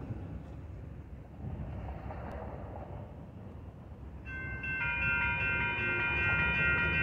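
A westbound Union Pacific freight train with a KCS locomotive rumbles past at Lenway Street. The low, steady roll of the cars grows louder, and a high, sustained metallic squeal of wheels joins partway through.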